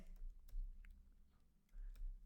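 Soft clicks come from a computer keyboard while someone types a short search term, faint and sparse over a low background hum.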